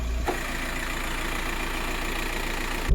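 A car engine idles at home before an oil change, running as a steady, even low drone for nearly three seconds. It is cut off by a brief thump near the end.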